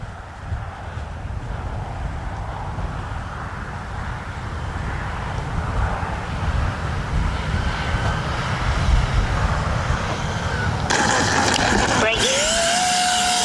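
An FMS KM Models Afterburner V4 RC jet flies past with a steady jet roar that swells louder over time, then sharp high whines and a falling tone as it passes. A voice talks over it.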